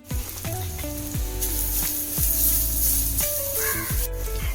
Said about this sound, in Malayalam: വെളിച്ചെണ്ണ ചൂടായിട്ടുണ്ട് അതിലോട്ട് ഒന്നര കപ്പ് തേങ്ങ വറുക്കാൻ ഇടാം